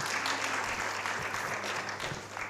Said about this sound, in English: We are clapping till she gets here.